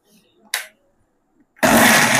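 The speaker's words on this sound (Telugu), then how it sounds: "ఈ కారం పొడి మిక్సీ పట్టేటప్పుడు కొంచెం కొంచెంగా సపరేట్గా మిక్సీ పట్టాలి." A kitchen mixer grinder whirring on a dry red chili powder mix made with nalleru, starting abruptly after a brief quiet moment and running loud and steady at close range.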